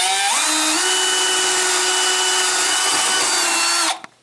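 A power drill bores a hole through drywall for a toggle bolt while closet shelving goes up. It whines steadily and loudly for about four seconds, rises in pitch early on, then stops abruptly.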